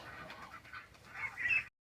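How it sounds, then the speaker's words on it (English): Young ducklings in a backyard bird pen give a run of soft, high calling peeps, fairly close and continuous, growing a little louder toward the end before cutting off. "Little ducklings."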